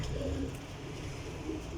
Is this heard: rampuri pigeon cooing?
yes